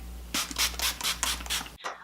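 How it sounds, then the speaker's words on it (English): Several quick hissing bursts of makeup setting spray come in a rapid series, close and fairly soft, each a short airy spritz. "Just gonna add some setting spray here."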